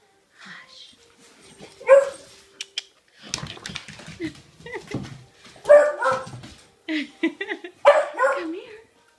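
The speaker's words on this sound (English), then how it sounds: "Lily, don't bark at stuff back there." A pet dog barks and yips in short repeated bursts indoors, loud and close, with a person talking between the barks.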